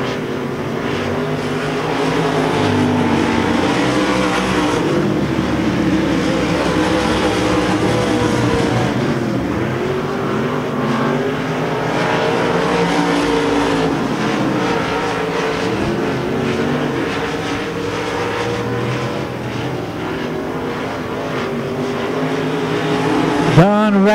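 Race cars roar continuously around the dirt oval at Devils Bowl Speedway, a dense, steady engine drone with cars passing, under an announcer's commentary.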